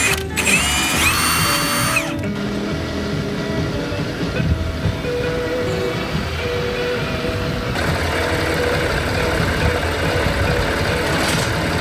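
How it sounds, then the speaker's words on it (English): Cordless power drill used on a welding rig truck bed at a Texas ranch, whirring loudly in bursts with a rising whine near the start, over steady engine and mechanical noise. "So we'll take our drill."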